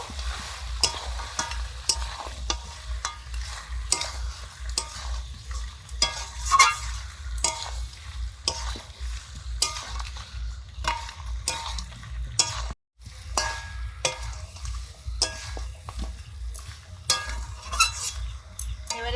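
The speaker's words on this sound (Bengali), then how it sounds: "আর দিচ্ছি ভেজে রাখা আলু" Fried potatoes are stirred into a bubbling curry in a pan, with repeated scraping strokes of a spoon over steady sizzling, close and moderately loud, with one brief break partway through.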